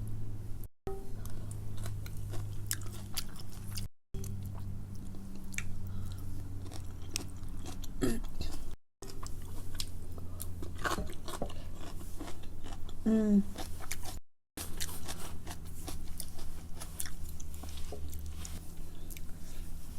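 Close, steady chewing and biting of Samyang Carbo spicy chicken noodles and Bibigo dumplings, with soft crunches and wet squishes throughout and a low hum behind, no talking.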